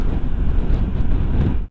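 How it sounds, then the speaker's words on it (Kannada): Wind buffets the microphone on an open road in Kazakhstan, a loud, continuous low rumble with no speech before it cuts off. "ಸ್ವಲ್ಪ ಗಾಳಿ ಹೊಡಿತಾ ಇದೆ ಹಾಗೆ"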